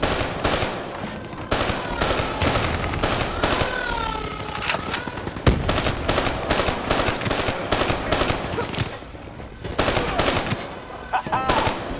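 Rapid automatic gunfire in Call of Duty: Black Ops III as bats are shot down, loud sustained bursts with short gaps, layered over game effects and background noise.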